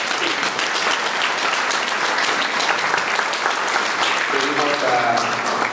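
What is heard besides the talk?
applause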